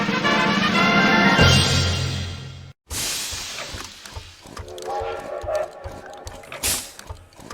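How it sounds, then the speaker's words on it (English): Train running in the Lionel Trans Con video game, starting with a sustained tonal horn-like chord, then a brief cut to silence, followed by rhythmic mechanical clattering and chugging with intermittent tonal game effects. "The trains are running again thanks to us."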